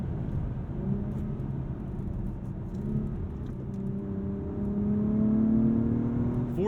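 A 2021 Acura TLX Type S with a 10-speed torque-converter automatic in Sport Plus mode accelerates, its engine note rising steadily and swelling louder toward the end, heard from inside the cabin.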